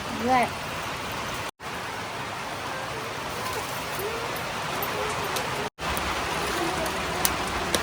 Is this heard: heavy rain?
yes